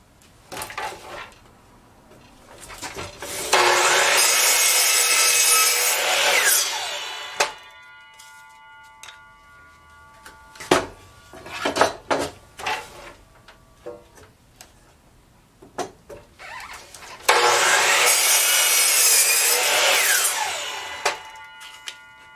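Two bursts of a power saw cutting wood, a few seconds each, with clattering handling noises and knocks in between.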